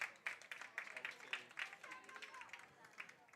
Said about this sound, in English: And a smattering of applause for Noah Stroming.